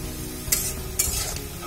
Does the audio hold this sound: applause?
no